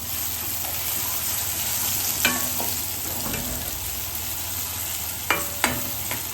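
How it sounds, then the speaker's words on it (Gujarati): Onions and tomatoes fry in a pan for ragda, giving a steady dense sizzle throughout, with a few sharp clinks of a spoon or spatula against the pan now and then. "અહીંયા આપણા ડુંગળી ટામેટા સારી રીતે સતરાઈ ગયા છે"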